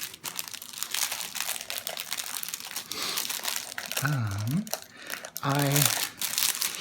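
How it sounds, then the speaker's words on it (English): Plastic wrapping crinkles and crackles as it is pulled off a sugar lilac leather item during an unboxing, with someone talking over the noise in bursts. "let me take the plastic off"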